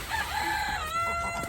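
A rooster crowing among chickens outdoors on a snowy day, one clear nearby cock-a-doodle-doo call rising and holding in a single short burst.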